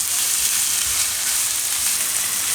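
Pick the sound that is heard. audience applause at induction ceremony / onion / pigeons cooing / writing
onion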